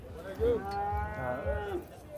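A cow moos at the Namangan international livestock exhibition: a loud, drawn-out, close bellow whose pitch rises and falls over about two seconds, with no voices over it.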